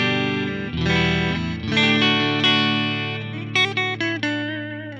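Clean Fender-style electric guitar from a Line 6 POD Go, miked with an SM57, rings out in sustained chords followed by a few quick picked notes, loud and close, played alone.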